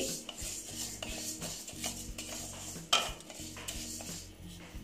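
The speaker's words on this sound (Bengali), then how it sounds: "দেখো ডালিয়াটাও আমি দিয়ে দিচ্ছি, একসঙ্গে ভেজে নিচ্ছি।" Dalia and lentils are dry-roasted together in a pan, with a spoon scraping and stirring the grains and one louder clank against the metal partway through, heard close and fairly quiet with no talking.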